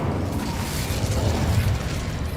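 A fire spell cast in Hogwarts Legacy roars as a dense, sustained burst of flame, loud and rumbling, lasting the whole moment with no pauses.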